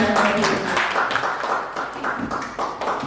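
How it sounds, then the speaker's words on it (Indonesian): An audience at a school training session claps in a run of quick, overlapping bursts, fairly close and loud, while a voice talks over the applause. "Tepuk tangan dulu di sana"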